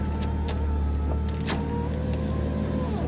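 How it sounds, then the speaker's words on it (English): A car's power window motor whirs upward in a steady hum inside a narrow cabin with racing seats, ending in a faint stop near the end. "Put the power window up."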